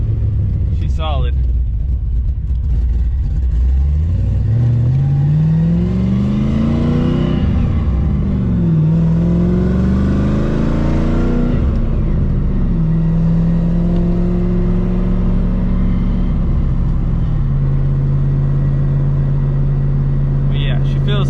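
Engine of a Nissan 300ZX Z32 fitted with GTO mufflers revs up and down in loud, rising and falling sweeps, then settles into a steady idle drone, heard close and alone throughout.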